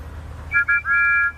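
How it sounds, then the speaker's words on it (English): A steam engine whistle toots at a quarry, a few bright tonal blasts, a short one followed by a longer sustained one, over a low rumbling background. "Together, Thomas and Percy happily tooted their best friend's whistle."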